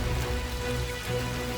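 Artificial rain pours down steadily in an indoor Amazon-style rainforest, a dense, continuous hiss of water falling on foliage and surfaces, loud and even throughout.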